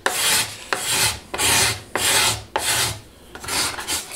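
A hand scraper is drawn over wood, removing finish from a floor or wooden surface, making seven rhythmic rasping strokes, close and loud, each with a sharp start and short pauses between, no voices.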